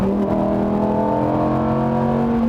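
A Lamborghini Huracán Performante engine pulls hard in fifth gear from 5,000 rpm, its deep growling tone rising steadily and loud throughout, with no talking.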